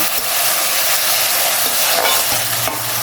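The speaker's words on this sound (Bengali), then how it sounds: "এখন এই পেঁয়াজটাকে একটু লাল করে ভেজে নিলাম।" Chopped onions frying in a pan for a chicken stew, a steady close sizzle with faint stirring scrapes throughout, no voices.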